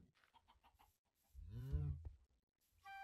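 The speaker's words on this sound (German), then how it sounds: "Ich habe gerade Hühner sterben hören." Minecraft chickens cluck in quick, faint bursts in a video game, followed by a louder, lower squawk and then more clucking.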